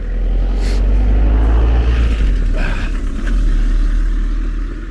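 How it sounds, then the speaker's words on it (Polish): Near the Milicz fish ponds, a car drives past close by with a loud low engine rumble that slowly fades, followed by lighter road noise. "Trochę się samochody tutaj kręcą, więc musimy je przepuszczać."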